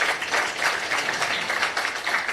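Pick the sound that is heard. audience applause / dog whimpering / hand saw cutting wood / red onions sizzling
audience applause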